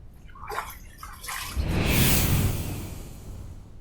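Water splashes and runs as a face is rinsed after a shave with Personna GEM blades, a couple of short splashes followed by a louder, steady rush of running water close by.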